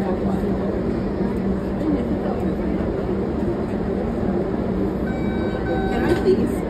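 An Ashmont-bound MBTA Red Line subway train rides along with a loud, steady low rumble and roar, thin high tones creeping in near the end, while a voice speaks over the noise.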